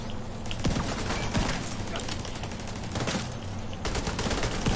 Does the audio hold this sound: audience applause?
no